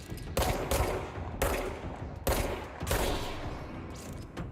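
Rapid gunfire in the video game Control comes in dense, continuous bursts with sharp attacks and steady loud volume throughout, and no speech.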